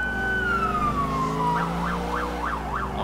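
Ambulance siren in the video game GTA IV with the LCPDFR mod: a loud, close, continuous wail that drops in pitch and then switches to a rapid rising-and-falling yelp, over a steady low engine drone.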